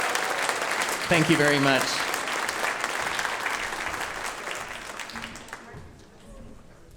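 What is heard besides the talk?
audience applause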